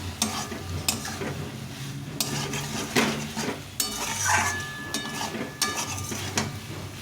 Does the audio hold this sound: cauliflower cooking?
yes